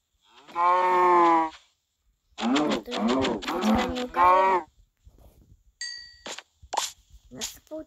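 Several loud, drawn-out cow moos from a farming video game, two or three long bellowing calls in a row, followed by short clanking game effects.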